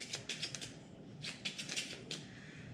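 Playing cards shuffled by hand in short bursts of crisp flicking and riffling, close and quiet, with two clusters separated by a brief pause and no voices.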